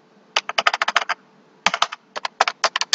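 Someone types a ping command on a computer keyboard: two close bursts of quick, crisp key clicks separated by a brief pause, loud and near, with no talking.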